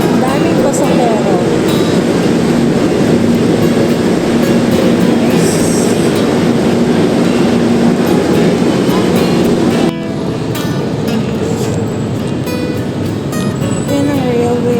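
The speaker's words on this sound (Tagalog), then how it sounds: "Yan ang railway ng Shaw Boulevard" An MRT train rumbles loudly along the Shaw Boulevard railway near the station, a continuous heavy roar with rattling wheels and metallic squeal that eases slightly toward the end, with a busy crowd in the background.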